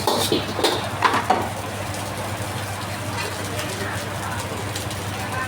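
Rather wet rice being stir-fried in a pan for Thai fried rice, with a steady sizzle under a few metallic scrapes and clanks of the spatula early on, and a voice faintly present.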